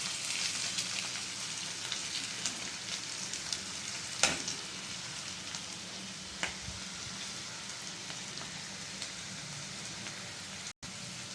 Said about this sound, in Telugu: కందిపప్పు కూడా మొత్తం వేసేసి కొంచెం ఇలా ఫ్రై అవనిస్తే